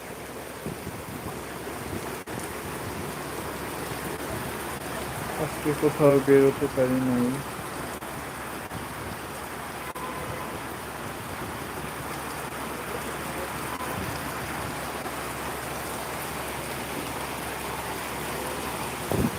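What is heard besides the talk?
heavy rain falling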